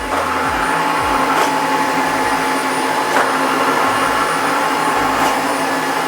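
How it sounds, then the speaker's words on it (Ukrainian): A Dreame H15 Pro Heat wet floor vacuum cleaner runs with a constant loud whirring drone, steady throughout, with a few faint clicks over the motor. "пилосос готовий і можемо починати прибирання"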